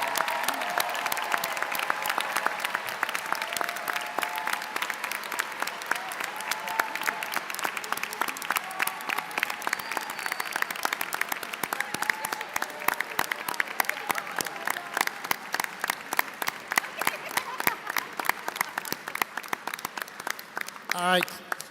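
Long, loud audience applause for the medical school class at a university Match Day event, sustained clapping from a large crowd with scattered voices and cheers mixed in, growing more rhythmic and sharp toward the end.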